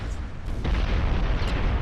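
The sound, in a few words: 14-inch cannon fire in video game Ultimate Admiral Dreadnoughts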